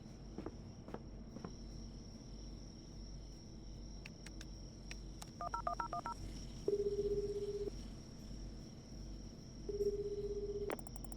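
A phone in a storage room in the cozy Japanese convenience-store game inKonbini is dialed: a quick cluster of keypad beeps, then two longer electronic tones, over steady insect-like ambience and scattered clicks.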